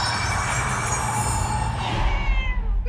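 A cartoon cat lets out a long, drawn-out, wavering meow that sits loud and close over a low rumbling background, tapering off at the end with no talking.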